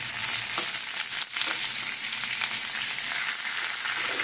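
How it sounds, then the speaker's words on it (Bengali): Tomatoes go into onions already frying in a pan and sizzle with a dense, steady crackling hiss. A few soft scrapes and knocks come through, and it stays fairly loud with no voices. "এবারে দিচ্ছি টমেটো।"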